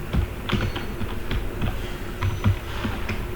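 Close, steady typing on a computer keyboard, with a brisk run of light clicking keystrokes that continues throughout without any talking.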